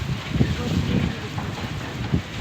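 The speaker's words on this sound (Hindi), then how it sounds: "काफ़ी तेज़ बारिश है, बिल्कुल पता ही नहीं चल रहा।" Heavy rain lashes open farm fields in Karak under strong wind: a dense, steady roar close to the microphone, broken by low gusty buffets.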